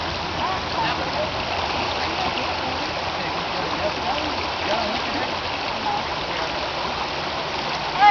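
Water running in a stream near Taylor, Cherokee, North Carolina, a steady broadband rushing that stays even and fairly soft for the whole stretch, with no pauses.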